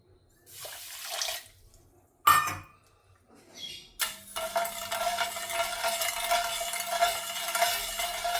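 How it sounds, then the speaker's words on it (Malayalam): Sugar and water melting in a pan for carrot halwa while being stirred: a few scraping stirs and a brief clatter, then a steady bubbling, sizzling hiss that continues to the end, close and moderately loud. "അത് കുറച്ച് വെള്ളം ഒഴിച്ചിട്ട് ഒന്ന് ഉരുക്കിയെടുക്കാം."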